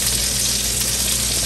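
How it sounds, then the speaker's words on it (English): Oil and flour roux frying in a pan, salted and peppered, gives off a dense, even sizzle that holds steady and close for the whole moment, with no voice over it. "Make a little roux."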